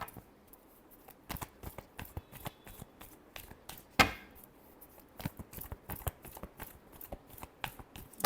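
Tarot cards are shuffled by hand in a quiet room, a series of soft crisp riffling bursts and slaps in irregular rhythm, close and fairly faint, with one sharper snap midway.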